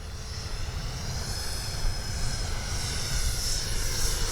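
Freewing L-39 radio-controlled jet making a pass with landing gear down: a steady, airy turbine-like roar that swells slightly as it passes, with no talk.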